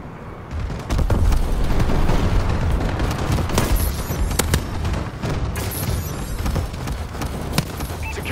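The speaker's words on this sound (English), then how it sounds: "Friendly bombing run clearing the way" Dense, continuous rumbling blasts from a friendly bombing run in Call of Duty: Advanced Warfare Domination, with sharp cracks and booms layered over a steady roar of battle noise for the whole span.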